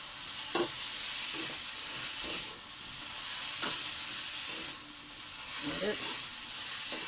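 Boiled taro stolons and prawns are stirred in a frying pan over a steady, hissing sizzle. Soft spatula scrapes and knocks recur every second or so, and no one speaks.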